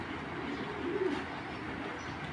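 Pakistani pigeons coo in a low, continuous murmur over a dense background of hiss and noise, brief and moderately close.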